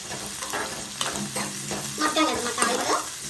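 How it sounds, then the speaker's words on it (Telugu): Onion and drumstick pieces fry and get stirred in a pan with green chilies and fresh curry leaves, giving a soft, steady sizzle broken by scraping stirs, close up, with no talking. "ఆనియన్ ఫ్రై అవుతుంది ములక్కాడ కూడా మగ్గుతుంది"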